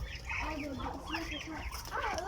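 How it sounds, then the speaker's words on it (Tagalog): Chickens cluck nearby in a rapid, continuous stream while people talk over them. "at my little chicken"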